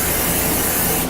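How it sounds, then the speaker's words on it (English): A single close, loud burst of cooking spray coats a baking pan and criss-cross cooling rack set up for oven-cooked bacon, a steady hiss lasting about a second. "You put it in there, you spray it"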